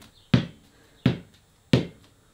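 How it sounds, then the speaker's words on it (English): A cricket training ball bounces off the ground three times at a steady pace, each a sharp, close thud about 0.7 seconds apart, with no other sound between. "This ball bounces off the ground with some pretty good pace"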